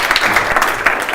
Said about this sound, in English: Round of applause for Jarek.